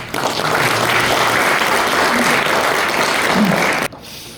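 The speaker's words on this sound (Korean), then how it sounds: "나오실 때 큰 박수로 맞이해 주시기 바랍니다" A church audience at a fathers' school lecture breaks into steady, dense applause welcoming the speaker, loud and sustained before cutting off abruptly near the end.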